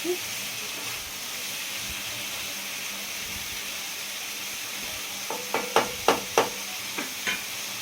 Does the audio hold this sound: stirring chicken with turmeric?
yes